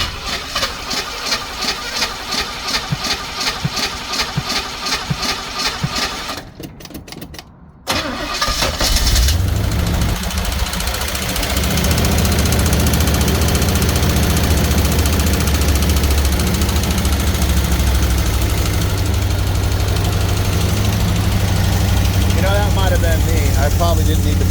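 A Jeep engine is started and then idles loudly and steadily with an underlying rhythmic valve knock and ticking, while a person talks over it early on.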